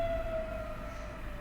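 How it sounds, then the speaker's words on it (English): A fire truck siren sounds from outside, a steady wailing tone that slowly drifts downward in pitch. It stays fairly faint, as if heard from indoors at a distance. "Actually, I think it's a fire truck."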